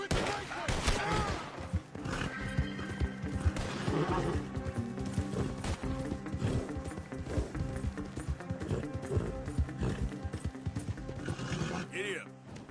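A horse gallops in Red Dead Redemption 2 with steady hoof beats under a dense mix of game sound, including whinnies and bursts of gunfire, while a voice talks over it.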